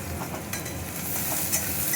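Onion fries in a pan while making shim pata paturi. A dense, close sizzle runs steadily over two seconds with faint stirring scrapes and no voices.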